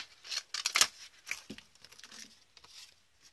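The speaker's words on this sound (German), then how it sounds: "Wir lösen wieder das Tesafilm ab." Adhesive tape peeled off coated cardboard in short bursts: crisp ripping and crackling strips near the mic, followed by softer handling rustles.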